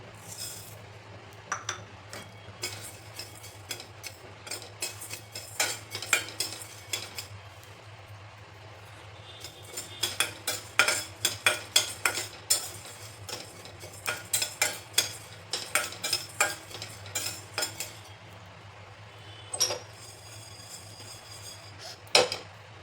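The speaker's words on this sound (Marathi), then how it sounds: "आता भाजायचे धने" Coriander seeds being dry-roasted in a pan and stirred with a metal spoon, a steady run of clinks, scrapes and rattles in irregular bursts over a low, constant hum.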